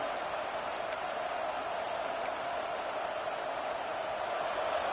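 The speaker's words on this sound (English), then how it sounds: "Listen to the crowd energy here in the early going." A stadium crowd in a Madden/College football video game roars steadily in the background, a constant even wash of many voices at moderate, distant volume.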